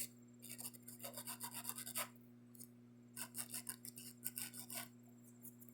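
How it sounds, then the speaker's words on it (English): An 80 grit hand file works over acrylic nails in quick back-and-forth bursts of close, gritty rasping, pausing briefly between runs over a low steady hum in the room. "I always start on my sides using the 80/80 grit Pano files because they're great for shaping."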